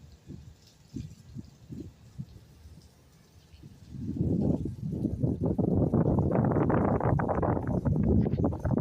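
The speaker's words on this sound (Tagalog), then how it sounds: "It's windy." Soft intermittent thumps at first, then a rising, gusty roar of wind buffeting the microphone, loud and continuous for the last few seconds.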